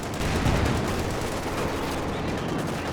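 M1919 machine guns fire in a video game battle, a sustained, steady stream of automatic shots at moderate loudness with no pauses throughout.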